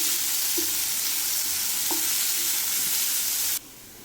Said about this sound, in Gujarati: ત્યારબાદ આ ડુંગળી નાખી દઈશું. આ ડુંગળીને પ્રોપર થવા દેવાની.